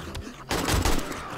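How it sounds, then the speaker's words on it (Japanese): A sudden loud blast bursts out midway through a firefight in a zombie survival game, following a few quieter sounds and then a dense, rumbling roar that holds to the end. "めっちゃ速攻爆発したよね。"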